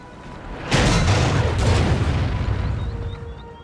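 Howitzer artillery fire and explosions in the video game Napoleon: Total War, a sudden loud boom followed by a rolling, crackling rumble that slowly fades over a few seconds.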